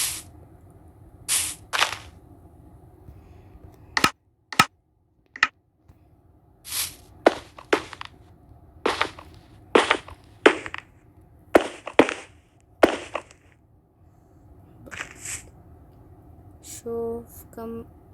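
A diamond sword strikes a villager in Minecraft: a series of sharp, separate hit clicks and thuds, close and fairly loud with silent gaps between them, followed by a short beeping game tone at the end.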